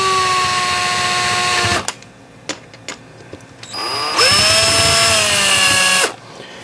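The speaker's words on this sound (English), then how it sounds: "Going in just at an angle a little bit with my drill so it stutters and skips. Because this is aluminum on aluminum." A power drill drives screws into the aluminum of a 1996 Mercury 40 HP SeaPro outboard motor, whining loudly in two bursts with stuttering clicks in the pause between them.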